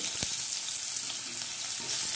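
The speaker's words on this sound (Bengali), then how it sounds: "দেখুন আস্তে করে ধরে ফুলকপিটাকে উল্টে নেব।" A whole cauliflower fries in oil in a pan, giving a loud, continuous hissing sizzle close by, with a brief clatter of handling near the start.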